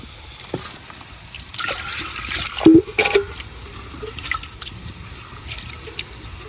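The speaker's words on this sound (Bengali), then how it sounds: "এখন ডাল ডালে ভালো করে ধুয়ে নিলাম" Soaked red lentils are rinsed in water, with soft sloshing, splashes and a few trickles, a brief louder swirl midway, under low background noise and no speech.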